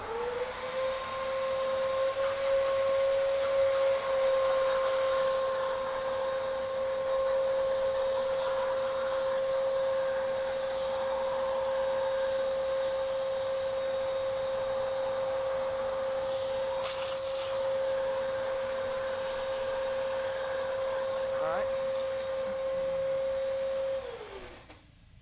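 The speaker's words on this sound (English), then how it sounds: "I'm gonna go ahead and shop vac that real quick" A shop vac cleans a dust layer off a game console and runs continuously for about 25 seconds with a loud, steady motor whine that holds one pitch, then spins down at the end.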